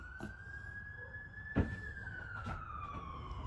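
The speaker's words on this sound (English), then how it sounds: "If you hear those sirens," Faint siren from a nearby fire department wailing outside in the distance, a single steady tone that slowly rises then falls, with a few soft knocks in the foreground and no talk.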